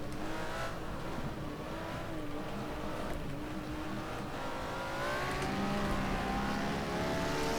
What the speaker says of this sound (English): All I can hear is V8 behind me.